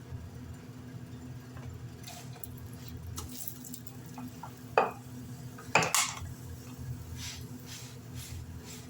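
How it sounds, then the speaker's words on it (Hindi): An aloo paratha cooks on a tawa with oil or ghee, with a soft, low sizzle under gentle stirring and scraping and a few sharp metallic clinks of a utensil. "थोड़ा-थोड़ा ऑयल या घी का इस्तेमाल करते हुए आप पराठे को पका लें"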